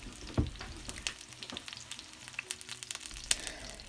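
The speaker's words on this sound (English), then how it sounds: "I am adding the ginger and garlic first. And as you can see, we see some pop-ups." Ginger and garlic fry in a pan for mint rice: a soft, close sizzle scattered with small crackling pops and spatters, one louder pop near the start and another near the end, with no talk.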